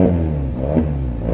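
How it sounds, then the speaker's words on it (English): The exhaust of a 2024 GAC GS3R car with an exhaust limiter rumbles and revs briefly, a deep, steady throaty drone rising slightly in pitch, close and loud. "Let's listen to the exhaust one more time."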